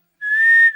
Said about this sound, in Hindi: किसने बजाई सीटी?